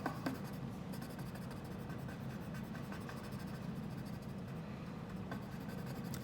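A sharp pencil crayon colours on paper in steady, close scratchy strokes, a continuous rasping scrape with a few slightly sharper hits, heard alone.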